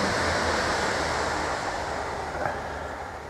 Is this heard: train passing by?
yes